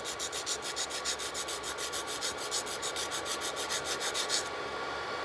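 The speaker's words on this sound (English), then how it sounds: "So I'm filing upwards like this." A nail file rubs upward across a gel nail in quick, even strokes, a soft close-up rasping rhythm of about four strokes per second that stops just before the end.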